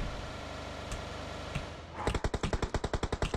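Rapid automatic gunfire in the PUBG battle game, a burst of about fifteen sharp evenly spaced shots coming in after a quieter stretch of ambient game sound.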